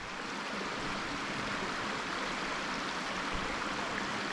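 A creek flows steadily nearby along a Big South Fork hiking trail, a constant broad rushing wash with no breaks and no voices.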